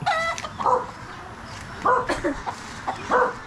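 A dog barks in three short bursts spaced about a second apart, fairly near, with soft whimpering in between.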